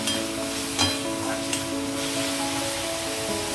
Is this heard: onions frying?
yes